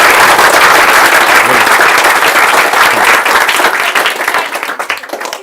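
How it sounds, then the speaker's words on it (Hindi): Loud, close applause from an audience, dense clapping that stays strong and then thins out toward the end. "ये आप एमएलए के लिए तालियां बजा रहे हो, प्राइम मिनिस्टर के लिए बजानी है"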